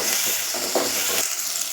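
Onions sautéing in a pan for a coconut-based curry, giving a dense continuous sizzle and hiss with soft stirring scrapes, close and steady throughout.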